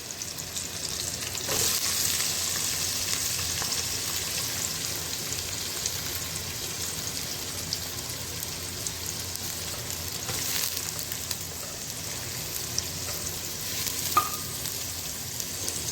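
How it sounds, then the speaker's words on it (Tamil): Cinnamon and cloves frying in hot oil for a vegetable biryani, a steady close sizzle and crackle that runs evenly throughout with a few sharper spits, no talking. "நான் இப்போ லைட்டாக பட்டையும் கிராம்பு மட்டும் போட்டுக்கிறேன்."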